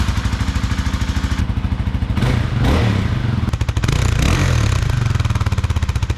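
A 2024 Kawasaki KLX300 motorcycle engine with its stock exhaust, hot and running lean, idles close up with a steady rapid thumping pulse, rising briefly in a couple of short revs before settling back.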